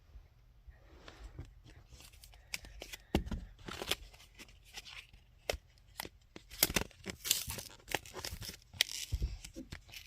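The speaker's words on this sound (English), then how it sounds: "So, I'm opening the pack now." A Pokemon Scarlet and Violet Obsidian Flames card pack is torn open by hand, with sharp, irregular ripping and crinkling bursts of foil wrapper, close and fairly loud, with no talking.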